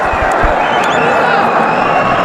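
Cricket crowd at a Pakistan versus West Indies match roaring after a catch: a loud, dense wash of cheering and shouting from a large stadium audience, sustained throughout with a few voices standing out.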